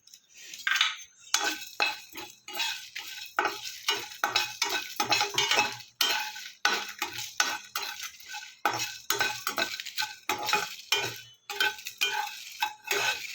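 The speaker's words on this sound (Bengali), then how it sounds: "আর এদিকে গোটা জিরে ধরে তেজপাতা দারচিনি শুকনো লঙ্কা দুটো আর এদিকে জৈত্রী এটাকে ভালো করে একটু কড়াইতে গরম করে গুঁড়ো করে নেবো" Whole cumin, bay leaf, cinnamon, two dried red chillies and mace are dry-roasted in a kadai, with a spoon scraping and stirring in quick repeated strokes, close and fairly loud, with short pauses between bursts and no talking.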